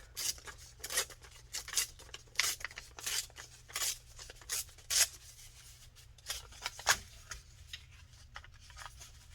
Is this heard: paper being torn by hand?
yes